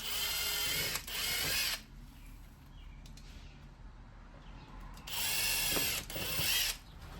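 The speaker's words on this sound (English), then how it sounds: "Go ahead and drill out your holes." Power drill boring holes into a Toyota bumper for a license plate bracket, two separate bursts of loud whirring grind with a quieter stretch between them.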